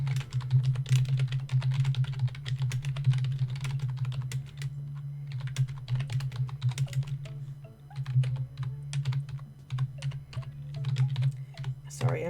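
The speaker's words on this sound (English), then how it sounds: "I'm just typing" Rapid typing on a computer keyboard, dense irregular clatter of keystrokes in bursts with brief pauses, close and loud over a steady low hum, with talk in the background at times.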